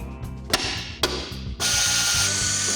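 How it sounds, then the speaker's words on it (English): A hand ratchet tightens a pivot bracket on an old Ford F-150 axle, giving a steady, fast run of metallic clicks close up, broken by two sharp clanks and then a denser, louder stretch of ratcheting. "go ahead and get this pivot bracket torqued down"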